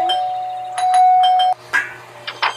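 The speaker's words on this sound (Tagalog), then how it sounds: "Doorbell." Doorbell in the video game Scary Teacher rings with a sustained chime, then a few shorter tones and clicks follow, heard clearly with no talking.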